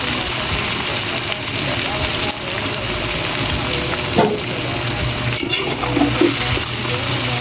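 Ingredients for Kapampangan menudo sizzle steadily in hot oil, a dense continuous frying hiss with occasional light stirring sounds throughout.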